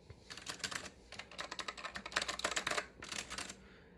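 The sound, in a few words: typing on mechanical keyboards, Acer semi-mechanical and Alps switches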